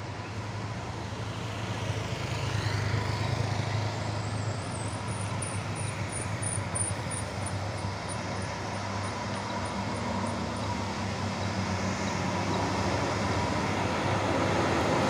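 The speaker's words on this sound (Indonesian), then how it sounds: "Lagi guys, konvoy ada 3 bus." Three tour buses from Sumber Jaya Trans and Aka Wisata roll past in convoy on a steep, extreme climb near Tebing Breksi, a steady loud engine rumble lasting throughout with a high whine rising and fading midway.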